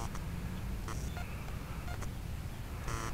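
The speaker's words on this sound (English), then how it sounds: "see what happens if that castle stops that double beep" A Castle speed controller on a Blade 180cfx RC helicopter with a 5100 KV motor gives short electronic beeps, several quick double tones spaced across a quiet bench background, faint and near.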